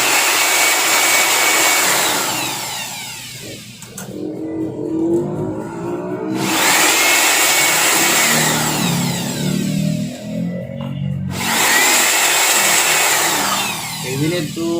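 A vacuum blower roars loudly while cleaning an Epson printer, a harsh high whine in three long bursts separated by brief drops to a lower rattle as the airflow is interrupted.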